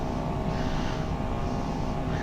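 An airplane engine drones in a flight simulator game: a steady, loud, unbroken hum with a broad whooshing wash above it and no talking.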